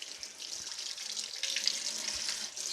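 Warm tap water runs into a sink while chicken poop rags are rinsed under it, a steady close hiss and splash with small shifting splatters, no talk.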